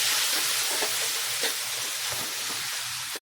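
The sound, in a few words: sautéing garlic, ginger and onion in a pan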